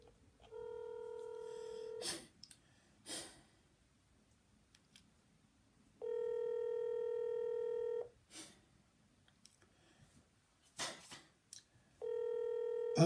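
A telephone on a call-in radio line rings in repeated two-second electronic bursts, three rings separated by pauses with clicks and handling noises in between.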